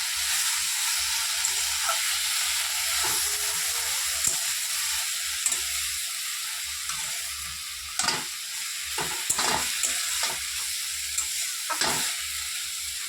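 Vegetables stir-fry in a hot pan with a continuous loud sizzle, broken by scraping stirs and clatters of the spatula at irregular intervals.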